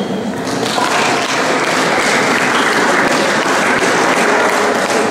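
Steady, dense clapping from an audience at a school year-end ceremony, loud and continuous with no break for the whole stretch.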